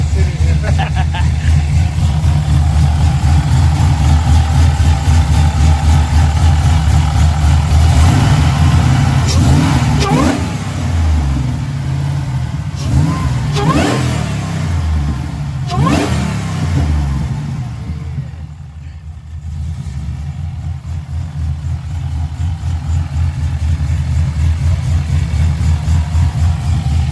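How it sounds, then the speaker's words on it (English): An LSA-swapped V8 idles with a deep, loud rumble and is revved several times, with sharp climbing bursts that fall back to idle, alongside occasional talking. "I might just rev it a couple times."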